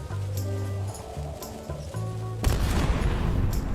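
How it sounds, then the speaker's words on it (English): Ship cannons fire in a video game, a sudden loud booming blast near the end that rolls into a noisy, rumbling wash, preceded by quieter game music and ambience. "Палите всех орудий."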